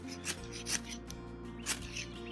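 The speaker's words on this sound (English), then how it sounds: "And I'm going to scrape it." Dry grass tinder is scraped in a few short rough strokes to make an ember, faint and close against a low steady hum, with no talking.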